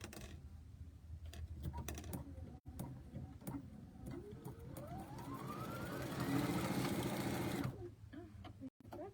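A home sewing machine runs a long continuous stitch while sewing a bowl cozy, its motor whirring steadily and rising in pitch, then stops, with a built-in thread cutter in use; brief handling clicks come before and after.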